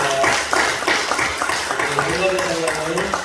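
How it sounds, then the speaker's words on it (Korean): A church congregation claps together in a steady burst of applause, the dense patter of many hands filling the room alongside voices and cheers. "우리 하나님 앞에 영광의 박수 올려드리겠습니다."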